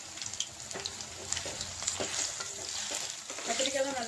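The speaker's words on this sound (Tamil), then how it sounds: "அதில் இந்த கத்திரிக்காயெல்லாம் ஆட் பண்ணி நம்ம நல்லா எண்ணெயில் வணக்கி" Brinjal pieces frying in sesame oil for Chettinad kara kulambu, with a steady soft sizzle and intermittent scraping stir strokes of a spoon against the pan, close and continuous with no talking.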